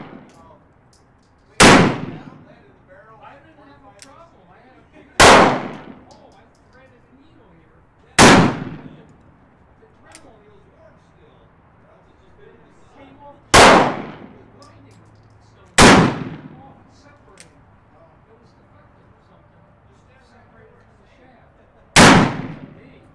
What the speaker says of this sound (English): And now the .36 caliber Colt Navy.